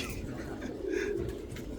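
Pigeons being brought into their loft in the evening give a soft, low cooing that runs briefly under a broad background noise.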